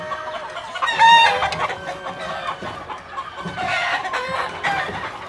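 Green-legged bulldozer hatch gamefowl cockerels cluck and crow close by, one loud crow rising over busy overlapping clucking and short calls.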